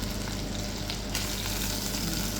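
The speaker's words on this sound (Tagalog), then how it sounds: "same pan guys, igisa natin yung ating sibuyas" Onions sautéing in the same pan used to brown chicken, a dense, steady, close sizzle with faint stirring, no voices.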